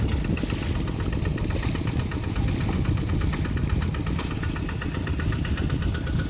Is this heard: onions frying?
no